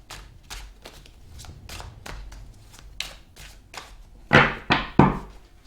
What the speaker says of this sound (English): So you all saw me shuffle the cards.